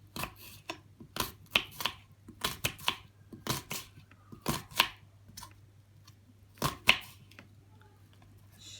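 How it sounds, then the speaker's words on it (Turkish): A knife chops an onion into small pieces on a board, giving a run of sharp, close, irregular taps with short pauses between bursts and a low steady hum underneath. "Soğanımı da yine aynı şekilde küçük küçük olacak şekilde küçük parçalar halinde doğruyorum"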